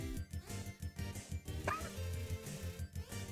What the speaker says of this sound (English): Lesser dog is barking excitedly.